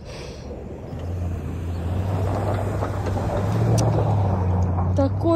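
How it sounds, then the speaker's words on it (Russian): A city bus pulls away nearby, its engine rising into a steady low drone that grows slightly louder toward the end, over general street noise. "Ой, уехал мой автобус."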